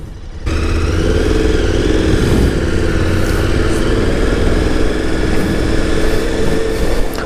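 A 2019 KTM Super Adventure S motorcycle engine runs steadily and close, a smooth continuous drone that starts after a brief quiet moment and holds an even level throughout with no talking.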